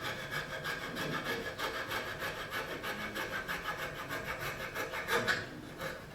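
Hand sawing through a small piece of wood, a steady back-and-forth rasping rhythm of strokes up close, alone without talk.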